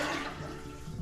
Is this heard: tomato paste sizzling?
no